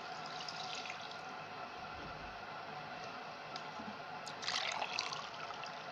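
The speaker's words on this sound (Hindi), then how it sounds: "इसमें 4 गिलास पानी ऐड कर देंगे।" Water from glasses poured into a cooking pot for beef yakhni pulao, a faint continuous trickle and splash throughout that swells briefly near the end.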